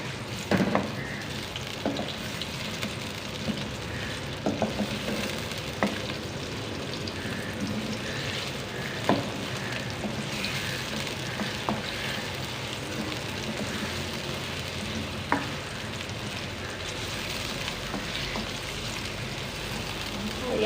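Sliced large onions sizzle in hot oil in a pan with a steady, rain-like crackle and occasional sharper pops and stirring clinks, close and continuous throughout.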